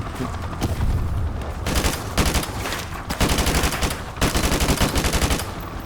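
Rapid automatic gunfire from Call of Duty: Modern Warfare Remastered, loud bursts of machine-gun fire broken by brief pauses, close and dominant throughout.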